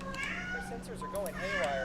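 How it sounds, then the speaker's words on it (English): A pet cat meows several times, short rising and falling cries close by, while a voice talks over game sounds in the room. "That's my cat."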